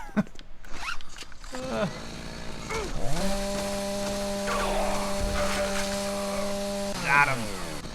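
Chainsaw revving in Doom 3 multiplayer on Xbox: a sustained buzzing engine drone with rising pitch sweeps, loud and close, with game sounds around it.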